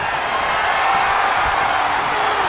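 A large crowd in the video game WWE 2K24 roars and cheers continuously during a WarGames wrestling match, a dense wash of noise with no clear individual voices.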